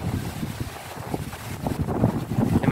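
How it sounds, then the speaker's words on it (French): Wind blows through the narrow old streets of San Marino near the fortress and ramparts, a moderate, uneven rush that swells and fades, with faint scattered sounds of the surroundings beneath it. "Toujours le vent hein, qui souffle bien"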